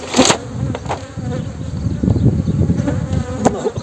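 Honey bees buzz in a dense, steady swarm drone at an opened hive during queen excluder fitting, loud and close, with a few sharper passes of individual bees flying near.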